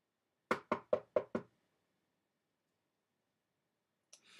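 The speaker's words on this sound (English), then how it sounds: "He knocked." Five quick, evenly spaced knocks on a door sound close and crisp, then there is silence and a faint brief rustle at the end.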